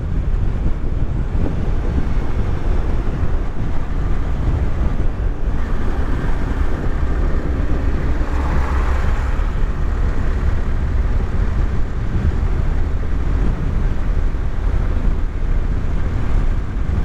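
A Honda CBR 250R motorcycle cruises at about 5,500 RPM and 85 km/h, its steady engine drone buried under heavy, constant wind rush from riding at speed, with no voices.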